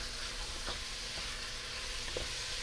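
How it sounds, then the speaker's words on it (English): Beef browns in a pot for a stew, giving a soft, even sizzle at low level with a few faint clicks of stirring and no voices. "We just want to get this browned a little bit."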